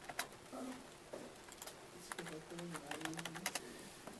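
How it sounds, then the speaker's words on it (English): Someone types a password on a computer keyboard, producing quick, irregular clicks under a voice, with a steady room hum behind them. "I swear I'm typing the right password."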